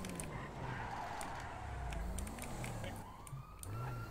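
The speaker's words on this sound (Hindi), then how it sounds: "पहले एम्बुलेंस को जाने दो" An ambulance siren wailing in a city driving game, its rising and falling tone sweeping past over engine and traffic noise at moderate, fairly distant level.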